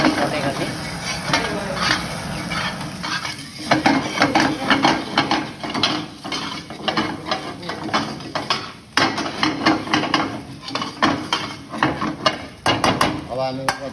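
Cumin seeds and green chili frying in a pan for paneer butter masala, with a steady loud sizzle broken by repeated scraping and clinking stir strokes of the spoon throughout.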